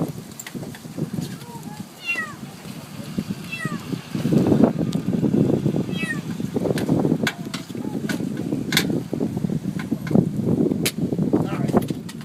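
A kitten trapped inside a car engine bay gives repeated thin, high meows, some close and some muffled, while a person talks and moves around the vehicle.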